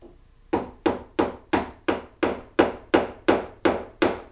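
A wood chisel being struck with a mallet while paring out a drilled mortise, eleven sharp, evenly spaced knocks in quick succession, close and dry, with no talking.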